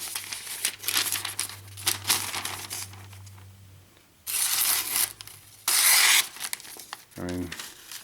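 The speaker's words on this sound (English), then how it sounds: "You guys know I'm not the best at cutting phone book paper." A Rockstead Shin DLC-coated knife slicing thin phone book paper, giving bursts of crisp rustling and tearing between quieter crinkling handling, with a low hum at the start.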